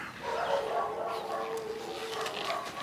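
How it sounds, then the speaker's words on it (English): Dogs bark and yip at a moderate distance over steady outdoor background noise, the calls overlapping in a loose, uneven rhythm. "they're kind of just listening to their dogs bark at the moment."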